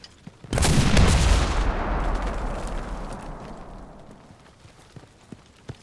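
A PIAT anti-tank weapon fires at a tank in the Enlisted video game, giving one sudden loud close blast that rolls into a long decaying rumble, followed by a few faint sharp clicks.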